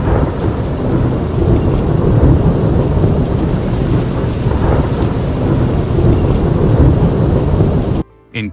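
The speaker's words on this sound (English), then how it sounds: "The power of storms can be both mesmerizing and terrifying, as captured in jaw-dropping footage from around the world." A heavy thunderstorm with loud, steady rain and deep rolling thunder fills the scene continuously, close and dense, before cutting off abruptly near the end.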